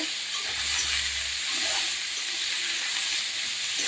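Cabbage and potatoes for a fish-roe cabbage dish hiss and sizzle in a hot pan while being stirred, a steady close steamy crackle with a brief low scrape early on.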